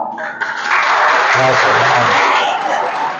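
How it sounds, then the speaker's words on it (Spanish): Auditorium audience at an environmental law conference breaks into sustained applause, loud and dense throughout, with a brief voice at the start and scattered cheers or chatter mixed into the clapping. "Con un aplauso, por favor."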